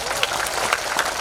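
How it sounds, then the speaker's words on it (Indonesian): A crowd at a live religious gathering in Tuban applauds for Pak Satya, loud and close, with many hands clapping in a thick, even patter that fills the brief moment. "Tepuk tangan untuk Pak Satya."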